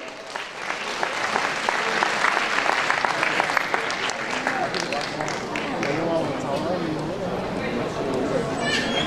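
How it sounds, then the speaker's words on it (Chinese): An audience at a Christmas-night charity concert in Dewan Sri Penang hall claps loudly and steadily for several seconds, a dense roomy applause with crowd murmur and voices mixed in. "掌声有请"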